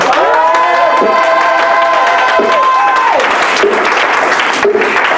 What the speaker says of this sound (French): On peut acclamer le roi du ciel.